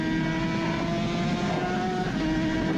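Suzuki RG500 two-stroke racing motorcycle heard onboard during the Isle of Man Classic TT, its engine droning loud and continuous with wind rush, pitch holding fairly steady as revs build.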